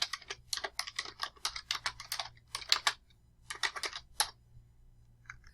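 Close, clear keystrokes on a computer keyboard while entering a date in Microsoft Word, coming in quick irregular bursts with a brief pause midway and a few final taps.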